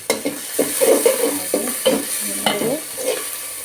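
Prawns are stirred and sautéed in a frying pan for a Bengali prawn and bottle gourd dish, with a steady close sizzle broken by repeated scraping strokes of a spoon against the pan.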